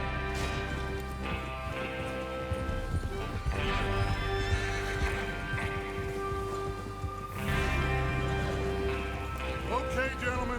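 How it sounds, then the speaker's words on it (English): Horses in the video game Red Dead Redemption 2 neigh and whinny while hooves clip-clop as a group rides out, with rain pattering and a little talk mixed in over the steady hoofbeats. "Get your horses ready."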